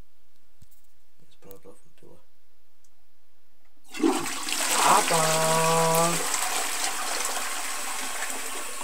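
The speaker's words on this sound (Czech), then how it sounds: "A teď už nezbývá nic jiného, než to spláchnout." A toilet flushes tea away after a quiet pause and brief speech, with a sudden loud rush of water that settles into a steady gurgling drain and trickle, close up.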